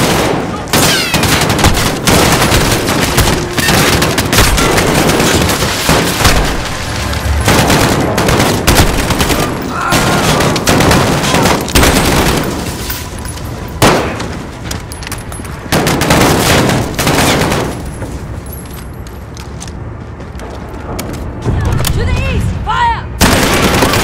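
Dense gunfire from the video game Call of Duty Modern Warfare, with rapid automatic bursts, heavy booms and continuous loud shooting over a full battle scene, and shouted voices mixed in.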